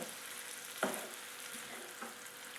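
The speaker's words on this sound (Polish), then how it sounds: "I jeszcze kilka minut wszystko razem smażę." Soft, steady sizzling of mushrooms, corn and chopped parsley frying together in a pan, with a brief clatter of stirring partway through and quieter scrapes later.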